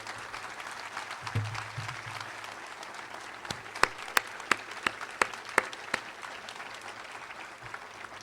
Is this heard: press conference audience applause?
yes